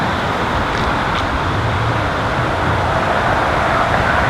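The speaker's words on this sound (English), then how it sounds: "Look, cars are going. There's a big truck coming." Road traffic with cars and a big truck passing, a loud, dense, continuous roadside rumble and hiss that stays heavy throughout with no talk over it.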